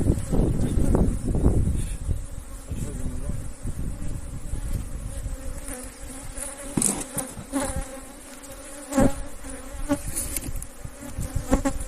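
A loud, dense buzzing of many agitated bees in windy weather fills the clip continuously as a super is added to a hive, with some rustling and handling noises in the first seconds.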